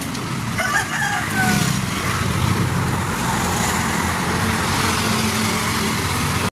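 Steady roadway noise on a village road in Marikina, Philippines, as motorcycles and other vehicles pass close by in a continuous engine drone, with no talking.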